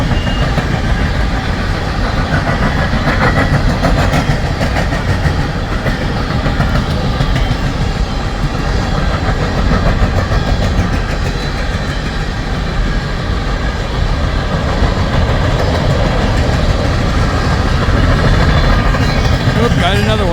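A long westbound empty coal train drags past at Pacific Junction, Iowa, with a constant rumbling rail roar and rhythmic wheel clatter that persists throughout, loud and close, with some talk mixed in.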